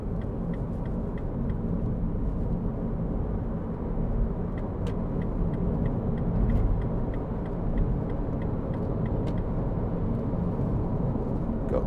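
A 2014 MINI Countryman 1.6 Cooper ALL4 five-door accelerates through corners, heard from inside as a steady low engine and road rumble with faint ticking clicks, no voices.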